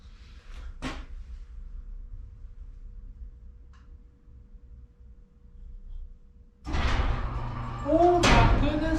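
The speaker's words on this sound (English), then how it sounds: "The door should go up or down." A newly installed garage door opener moves the door: a sharp click, then a steady low motor hum for several seconds, followed by louder rattling and clatter near the end as people talk.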